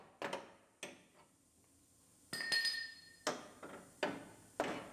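Sharp metallic hammer strikes on car body sheet metal land one at a time at an irregular pace, each ringing briefly, with quiet pauses between blows.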